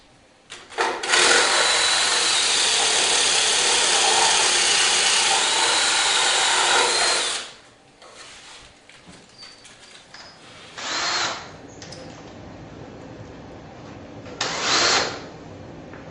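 Power drill with a new sharp bit boring into a wooden newel post, a loud steady whir for several seconds close by, then quieter rustling and two short bursts of drilling.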